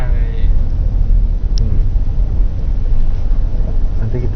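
Steady low road and tyre rumble inside a car fitted with floor and roof sound-deadening material, driving on an ordinary street, constant throughout with people talking over it.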